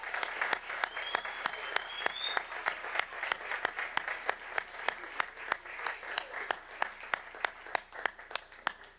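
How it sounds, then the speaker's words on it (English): Rhythmic clapping from an audience at a board meeting, sharp claps in a steady unison beat, moderately close, with faint background murmur beneath and a brief whistle early on. "One more round of applause."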